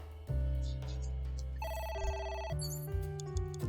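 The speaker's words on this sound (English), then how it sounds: "A phone. Should I pick it up?" A telephone in the video game AI: The Somnium Files rings with a loud, electronic melodic tone over deep sustained synth notes, its tonal pattern shifting partway through.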